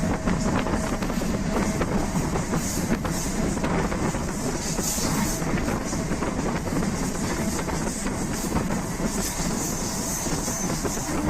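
Duronto Express train running near Ahmedabad station, a loud, continuous rumble and rushing noise from on board with wind buffeting, steady throughout with no voices.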